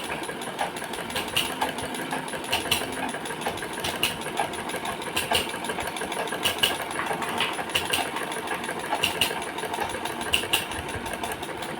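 A sewing machine stitches the crotch seam of a pair of shorts, running in a steady mechanical whir with regular ticking clicks that keep going throughout.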